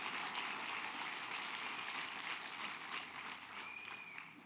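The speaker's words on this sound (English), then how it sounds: "let's give a big round of applause" Applause from a Democratic convention audience in New York greets Bill Clinton's introduction, a steady, distant roar of many hands that holds evenly throughout with no voices above it.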